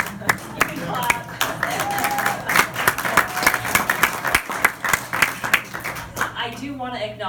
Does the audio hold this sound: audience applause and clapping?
yes